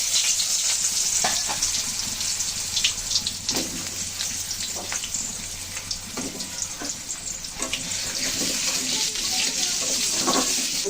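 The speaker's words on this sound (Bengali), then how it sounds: "এখন এই তেলের ভিতরে আলুগুলো ভেজে নিচ্ছি" Potatoes fry in hot oil with a steady, dense sizzle and crackle that runs the whole time, close up, with a few faint knocks of a utensil against the pan.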